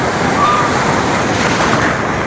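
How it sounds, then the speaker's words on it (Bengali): Sea waves surge and break at Digha beach in a steady, loud wash of surf, with wind buffeting the microphone throughout. "আর এই একটা ঢেউটা দেখো"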